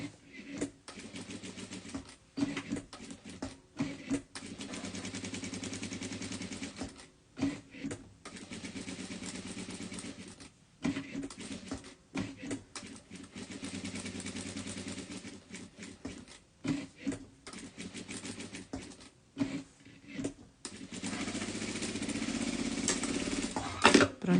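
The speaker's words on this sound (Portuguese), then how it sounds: "Vou vir aqui e vou costurar aqui agora" Sewing machine stitching fabric for a blouse and trousers, a buzzing mechanical whir running in bursts of a few seconds, stopping and restarting repeatedly, fairly close and steady during each run.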